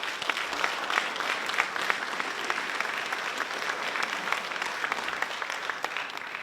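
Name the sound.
audience applause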